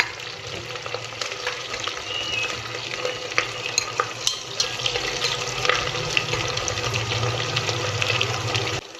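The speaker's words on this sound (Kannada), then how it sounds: "ಆನಿಯನ್ ಏನಿದೆ ಸ್ವಲ್ಪ ಲೈಟ್ ಬ್ರೌನ್ ಆಗೋವರೆಗೂ ಒಂಚೂರು ಫ್ರೈ ಮಾಡಿ" Onion fries in a cooker on an induction stove, a steady sizzle with scraping stirs and occasional clicks throughout, close and continuous with no talking.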